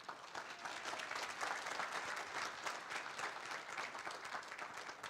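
Another round of applause from guests at the YMI centennial celebration, a continuous wash of many hands clapping, fairly faint and distant, holding evenly throughout.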